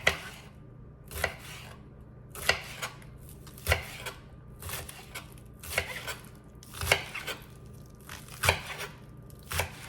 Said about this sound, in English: We're now going to chop up our green onions.